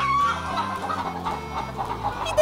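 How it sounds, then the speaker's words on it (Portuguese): Chickens on a farm cluck softly over continuous background music, with a brief cackle at the start and a few more scattered clucks following. "E alimente as galinhas."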